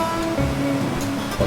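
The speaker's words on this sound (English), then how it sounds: "Hot boiling water." About a liter of water boils vigorously for Japanese dashi stock, a steady, rushing bubbling noise heard up close with no talk.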